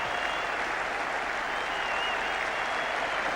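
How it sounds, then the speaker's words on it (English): Packed Saturday afternoon cricket crowd at Old Trafford in 1981 applauding batsman Ian Botham, a steady, dense roar of clapping that fills the stand without pause and without voices standing out. "the whole of Old Trafford, you can be sure, will be on their feet. And they're going to applaud him all the way in"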